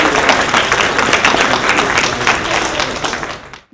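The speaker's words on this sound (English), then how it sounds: "One final round of applause for our legislators and candidates" An audience at a legislative panel session breaks into sustained applause for legislators and candidates, a dense, steady wash of clapping that fills the room before quickly fading out.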